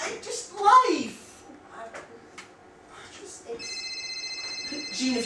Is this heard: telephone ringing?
yes